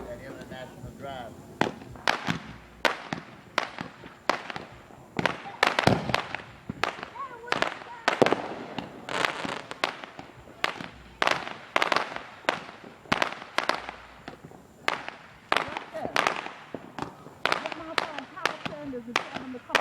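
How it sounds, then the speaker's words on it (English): Fireworks bursting in a steady run of sharp cracks and booms, about twenty loud explosions over twenty seconds with echoing tails, while people talk nearby between blasts. "They wanted to see the fireworks."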